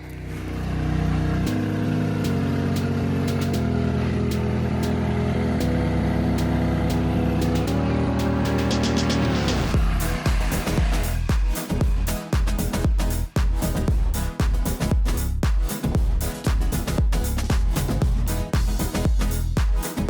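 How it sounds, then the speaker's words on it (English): A pressure washer sprays out the inside of a Silverado truck cab whose firewall insulation is being stripped. A droning motor gives way to a loud hissing spray broken by rapid spattering clatters against metal surfaces, continuous and close. "you're nuts pressure washing the inside of the cab"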